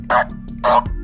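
Two short, low electronic tones from a light detector device sound in a row, each lasting a fraction of a second, with brief gaps and a quiet background, the low tone indicating no light detected.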